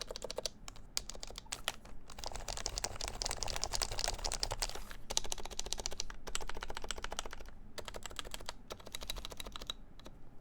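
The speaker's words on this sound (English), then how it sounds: "I think that's definitely just a keycap sound on it" Rapid continuous typing on an HHKB Professional Hybrid keyboard, with keycaps rattling loosely in their stems, close and steady for about ten seconds with brief pauses.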